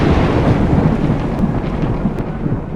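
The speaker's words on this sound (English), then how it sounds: "Suddenly, 3 bolts of lightning struck the ground," Deep rolling rumble of thunder from lightning bolts striking the ground, loud and close, sustained and slowly fading over a hiss like rain, without any speech.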